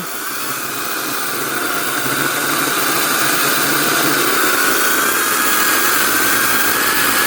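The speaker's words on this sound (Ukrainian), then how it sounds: "Пробуємо різати горіха акумуляторною пилкою." A cordless saw whines steadily and loudly for several seconds cutting walnut wood, a continuous motor drone with a high sustained tone.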